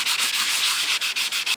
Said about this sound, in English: So I've rubbed those specks down with that sanding pad.